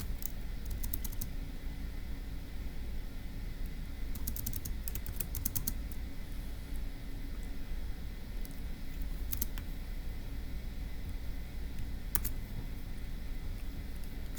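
Quick bursts of typing on a computer keyboard, light clicking clusters spread across the stretch over a low steady background hum.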